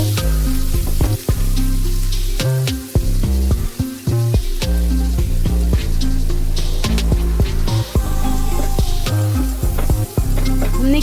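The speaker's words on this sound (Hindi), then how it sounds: "हमने इधर पैन को रख के हमने इसे तेल गरम कर दिया है और हमने इसमें ऑनियन भी डाल दिया है।" Onions sizzle in hot oil in a pan for a chicken curry, a loud, continuous crackling fry broken by intermittent stirring clatter and short dips.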